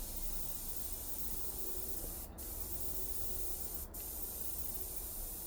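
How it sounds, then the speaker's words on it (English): An airbrush held very close sprays paint with a steady, faint hiss, broken by two brief sharp ticks. "when controlling the airbrush, I'm going really close here, so nicely tucked in"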